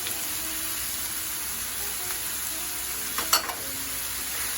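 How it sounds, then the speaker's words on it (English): Beef sautéing in a pan with adobo seasoning, sazon, salt and spices, giving a steady close sizzle and fry with a brief scrape of stirring near the end, no voices. "And I'm just gonna mix that and let this saute for about 5 minutes."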